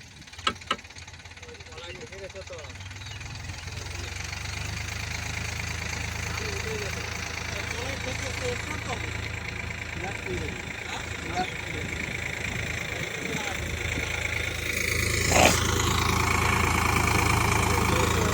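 A tractor stuck in deep mud with its clutch jammed rumbles at a steady low idle that swells slightly near the end, loud and close, under a busy outdoor background.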